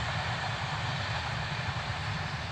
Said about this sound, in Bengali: ট্রেন যাচ্ছে আমাদের মাঠের পাশ দিয়ে ট্রেন লাইন